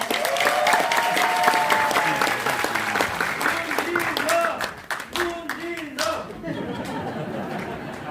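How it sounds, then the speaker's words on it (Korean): Crowd applause at an outdoor Democratic Party rally in South Jeolla, a steady wash of clapping lasting several seconds with chatter and scattered voices mixed in, thinning toward the end. "큰 박수로 모시겠습니다"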